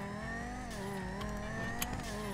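A standard Honda Civic Type R engine accelerates in GTA 5, a steady, loud revving drone whose pitch climbs and wavers, heard alone without talk.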